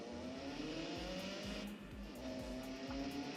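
Race car engine in a Forza racing game, revving hard in a tunnel with rhythmic gear-shift surges and tire squeal, loud and continuous with no talking.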